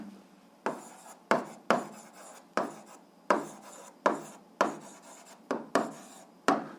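A pen scratches on paper as an answer is written down, in short repeated strokes with sharp onsets and quick fades, close up and with no talking.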